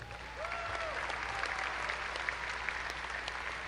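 An audience applauds graduates at an Angelo State University fall commencement, giving steady, sustained clapping that fills the hall from start to finish.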